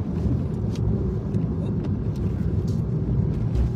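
A Mitsubishi Mirage car drives in traffic in the Philippines, a steady low rumble of engine and road noise throughout with faint passing sounds, no speech.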